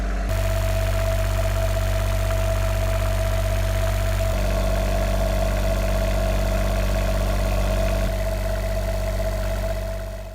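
Volvo Penta D1-30 diesel engine in a small boat runs steadily at idle, a close, loud, even rumble with a constant hum and no faltering.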